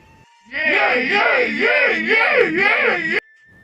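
Several spirit voices scream and wail together in strange, wavering tones, loud and sustained for about three seconds before cutting off abruptly.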